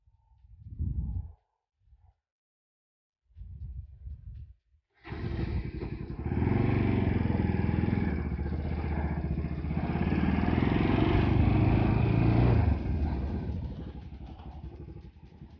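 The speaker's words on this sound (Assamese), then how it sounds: "এতিয়া বাইকখন ষ্টাৰ্ট কৰোঁ" After a few quiet knocks and thumps, a motorcycle engine fires up and keeps running with a steady, loud rumble until it eases off at the end.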